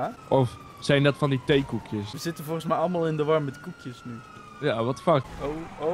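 A police car siren wails steadily in the GTA Online video game, faint in the background beneath loud, lively conversation among several players.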